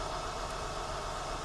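Car engine running with a misfire, a steady low rumble with faint vibration heard up close, continuous and even with no talking.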